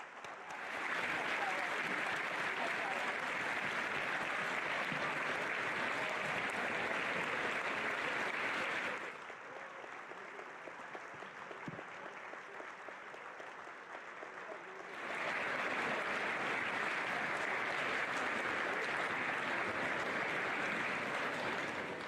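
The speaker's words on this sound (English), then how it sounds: "Please share your applause in honor of our veterans and those currently serving." Audience applause honoring veterans at a school remembrance ceremony, broad sustained clapping that fills the room, dipping to a quieter patter in the middle before swelling loud again.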